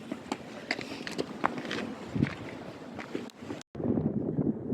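Wind gusts across a riverside embankment in unsettled weather, a steady broadband rush with buffeting on the microphone, mixed with footsteps and faint movement close by, dropping out briefly before returning.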